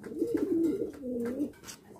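White Lakkha fancy pigeons coo in a soft, rolling series of low throaty calls, close and fairly quiet, with a brief pause between two phrases.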